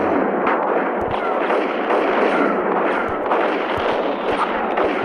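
Dense, continuous gunfire from a Max Payne shooter game, with loud overlapping shots and booming impacts forming a steady barrage throughout, with no talk.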